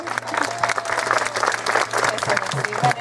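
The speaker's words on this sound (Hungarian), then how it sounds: "Egy nagy tapsot Szabolcsnak kérem" A crowd applauds steadily at a wedding ceremony, dense clapping throughout with a low hum underneath.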